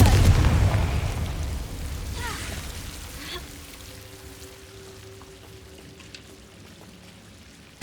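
The Confringo blasting spell in Hogwarts Legacy explodes with a loud, close boom and a crackling burst that fades into a lingering rumble and debris-like hiss, with a faint tone sustained beneath.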